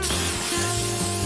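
WD-40 sprayed from an aerosol can onto the heat exchanger pipes of a Mini Cooper, one steady close hiss that runs the whole moment without a pause.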